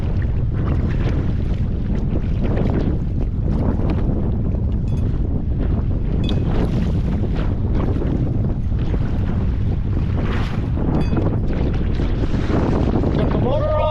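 A kayak fitted with a small motor pushes through huge, choppy swells, the steady engine drone buried under loud, continuous wind buffeting and splashing rough water close to the microphone.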